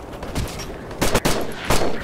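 Gunfire from the military shooter Operation Flashpoint: Red River: several close, loud bursts of rifle shots in quick succession, with short gaps between volleys, set against a busy combat background.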